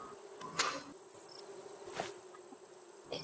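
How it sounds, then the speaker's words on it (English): Bees buzzing as they attack in the survival video game Raft, a thin insect drone with a few sharper buzzy accents over quiet game ambience. "It is the bees"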